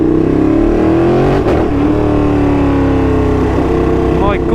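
Ducati 959 Panigale sport motorcycle with an aftermarket exhaust revved up close, a loud deep rasping engine roar that rises and falls in pitch and stays continuous throughout.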